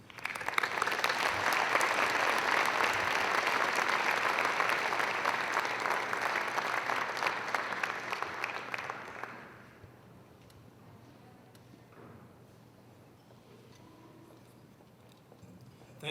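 An auditorium audience at a university keynote event applauds steadily and loudly for about nine seconds as the speaker is welcomed, then the clapping fades to a quiet, low room murmur.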